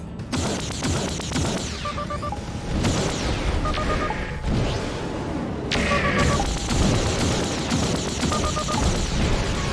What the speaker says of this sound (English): You flew through the fucking explosion